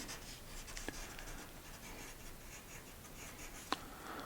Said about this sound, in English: Allow your pencil just to move along and have a little bit of fun.